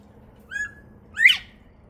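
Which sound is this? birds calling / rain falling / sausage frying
birds calling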